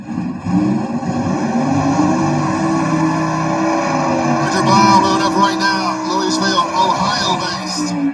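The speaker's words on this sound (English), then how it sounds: "Chevelle doing that pro-modified burnout, baby." A Chevrolet Chevelle pro-modified drag car does a burnout at a stick-shift drag racing event, its engine holding a loud, steady droning roar throughout while an announcer talks over it.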